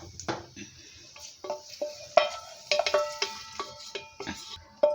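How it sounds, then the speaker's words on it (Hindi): Besan laddu mixture stirred in a pan, a spoon knocking and scraping against the cookware in a loose irregular rhythm of crisp close taps and clinks, fairly quiet between strokes. "अब इसे भी मैं उन मिश्रण में मिक्स कर दूंगी"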